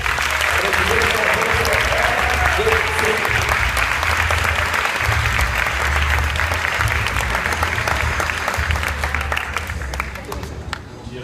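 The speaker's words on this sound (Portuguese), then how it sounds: "muitos aplausos para Guga Kessler" Sustained, dense applause from a large audience at a festival talk in Rio, loud and continuous for about ten seconds before easing slightly at the end, with a low hum underneath.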